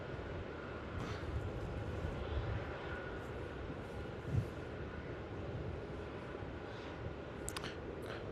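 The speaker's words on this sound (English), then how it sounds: "Qantas A330" A Qantas Airbus A330 arriving on runway 16 at Melbourne Airport, a steady distant engine roar and rumble held at a low, even level throughout.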